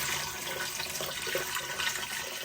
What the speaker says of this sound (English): I'm just gonna add a little bit of our broth to the bottom here